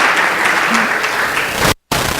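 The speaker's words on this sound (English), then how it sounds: "And it's okay if you applaud that." Audience applause at a public speaking event, a steady wash of clapping from a crowd that holds evenly for nearly two seconds before cutting off abruptly, then resuming briefly.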